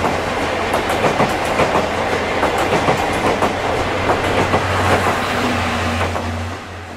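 A train rumbles loudly along the rails at night, a dense continuous roar with rapid clickety-clack wheel beats close by, tapering slightly near the end.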